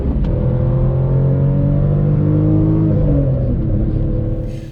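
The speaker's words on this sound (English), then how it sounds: "if I want to drop a couple gears and accelerate hard, I can, and I will" A manual-transmission car drops a couple of gears and accelerates hard, its engine note rising steadily in a loud, close, continuous roar that eases off near the end.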